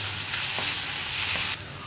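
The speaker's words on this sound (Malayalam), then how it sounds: "ഇനി മുളക് പൊടിയുടെ ആ ഒരു റോ ടേസ്റ്റ് മാറി വരുന്നത് വരെ നമ്മളൊന്ന് വീണ്ടും ഇളക്കി കൊടുക്കുക." Kashmiri chili powder is stirred in a hot frying pan for a tomato fry, producing a brief, close, steady sizzle that drops off sharply near the end.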